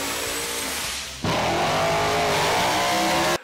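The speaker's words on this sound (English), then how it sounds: "this is an LSX engine." A loud LSX V8 engine built on a custom-designed block revs hard, its pitch jumping upward partway through and holding a strained roar before cutting off abruptly.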